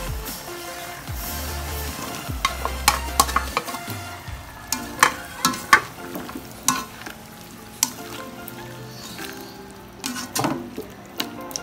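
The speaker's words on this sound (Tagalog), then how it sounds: "Kaya ilalagay ko na yung ating sayote at patatas." Chayote and potato chunks go into a pan of tender braised pork with tomatoes, bringing soft sizzling plus repeated sharp clinks and scrapes of a spoon stirring against the pan, close and without speech.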